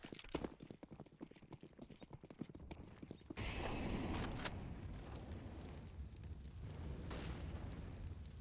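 A frag grenade goes off in a Counter-Strike esports match. After a few seconds of quick, clattering footsteps, a loud, sudden blast lands and a rumbling roar trails off.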